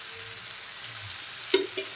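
Methi leaves and tomatoes frying in oil on a flat tawa make a soft, steady sizzle, with a couple of brief scraping or clinking accents near the end.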